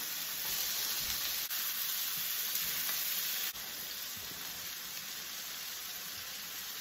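Onion burger sizzling and frying steadily on a hot surface after a flip, a continuous close, bright hiss with no talking.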